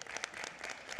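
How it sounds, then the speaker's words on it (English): Scattered applause in a Los Angeles County Board of Supervisors meeting chamber, fairly faint and thin, with a handful of distinct claps standing out. "Let's give her a round of applause."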